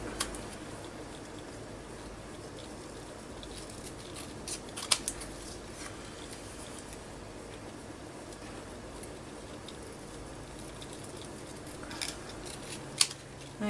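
Scissors trim a journal card in a craft session, giving a few soft, close snips and rustles over a steady low background hum, with sharper cuts near the middle and the end.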